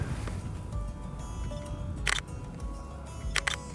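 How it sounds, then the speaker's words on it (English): Two sharp mechanical camera shutter clicks, a quick double snap near the middle and another pair toward the end, over steady outdoor background noise with a plane passing. "Sometimes the shutter on this camera makes weird noises."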